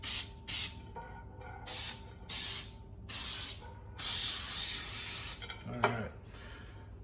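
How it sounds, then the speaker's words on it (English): Baking spray with flour hisses onto a baking pan in a series of short bursts, about six close, sharp sprays with brief pauses between, ending with one longer spray and a light clatter. "I'm using baking spray that has a little bit of flour in it,"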